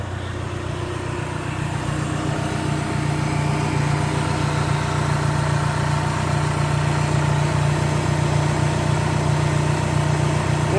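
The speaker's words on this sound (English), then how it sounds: "The engine absolutely purrs." A Dodge SRT-4 engine idles steadily with a low, even rumble, close and continuous with no talk, the note firming up slightly partway through.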